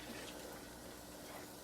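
Water runs faintly into a coconut milk can to rinse out what clings to the bottom, a soft steady trickle while cooking Guyanese chicken cook-up rice.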